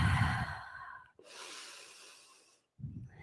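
A person breathing audibly during a vinyasa power yoga session, one long airy exhale followed by a breath in, then the start of another, close and soft with brief pauses between.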